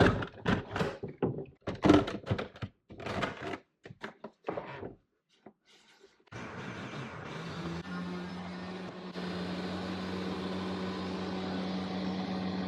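A few clunks and handling knocks, then a steady low electric hum with a droning whir starts and keeps running evenly, like a microwave oven operating.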